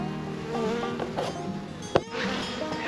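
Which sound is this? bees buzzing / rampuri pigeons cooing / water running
bees buzzing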